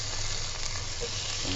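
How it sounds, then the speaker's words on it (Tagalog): Garlic sautéing in a pan for a mussel stew, giving a close, steady, dense sizzle throughout a short stretch with no talking. "nagisa natin yung garlic"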